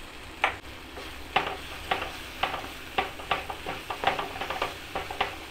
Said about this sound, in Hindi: हमने 2 मिनट तक प्याज को भी फ्राई किया है तेज आंच पे